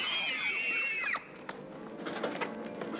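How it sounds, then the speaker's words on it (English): Several girls shriek together in loud, high-pitched screams at an early-morning rehearsal for the 1982 film musical Annie. The screaming cuts off abruptly after about a second, leaving a noisy room with scattered clatter. "All right, girls, easy on the screams."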